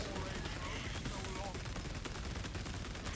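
Heavy bolter gunfire in a Warhammer 40,000 video game against a Tyranid swarm, heard as a dense, continuous roar of rapid shots at steady loudness throughout, with no voices.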